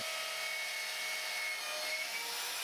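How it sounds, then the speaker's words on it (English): A drill bores holes into an anchor post for the saddles of a stainless steel wire balustrade, a steady, continuous close-up whine with no pauses. "The holes that are currently being drilled are the ones which the saddles will screw into."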